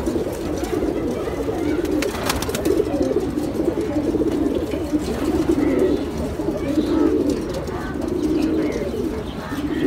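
Pigeons at a father-and-son pigeon farm in Mirerbagh coo steadily and densely throughout, with scattered chirps and wing rustles layered over a continuous, fairly loud flock murmur.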